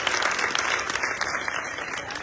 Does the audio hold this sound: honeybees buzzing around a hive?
no